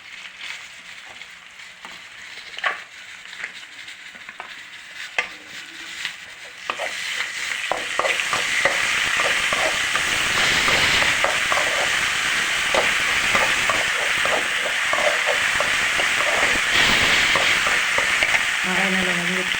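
Ginger and garlic fry in a pan of curry base with mustard seeds, cumin and onion; a few soft clicks open, then a loud, steady close sizzle swells and holds, dotted with stirring scrapes.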